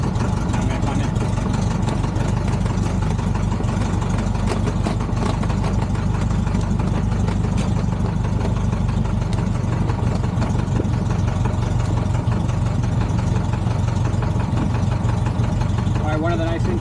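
A warmed-up small airplane engine idles with a steady, loud, continuous drone that holds for the whole stretch without a break.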